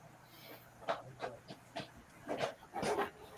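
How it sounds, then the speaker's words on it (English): Dog under a desk panting and whimpering, a run of short breathy pants and whines in an uneven rhythm, close and fairly quiet. "Our dog's going crazy underneath the desk here."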